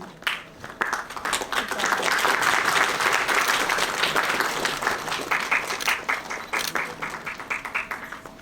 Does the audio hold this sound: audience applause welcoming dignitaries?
yes